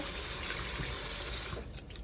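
Water runs steadily from a kitchen tap while a glass is washed, a close, loud, continuous gushing that cuts back abruptly near the end.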